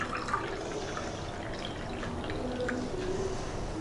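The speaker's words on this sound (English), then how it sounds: "And I'm pouring cold water in the glass that is labeled cold." Cold water poured into a glass, a soft steady trickling and splashing throughout, faint and close.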